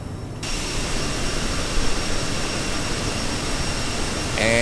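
A CRJ7 jet's turbine engine in a flight simulator game gives a steady, even roar with a faint whine rising at the very end, and no voices.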